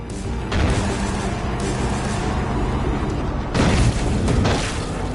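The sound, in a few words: explosion in the video game Far Cry 5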